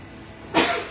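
A single sharp sneeze bursts out close to the microphone in a home kitchen during a cooking livestream, after a quiet moment, with its breathy tail trailing off.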